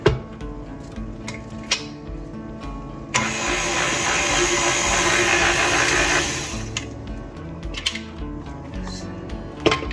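Electric mixer whirring loudly through vanilla cupcake batter for about four seconds, bracketed by quieter kitchen knocks and clatter before and after.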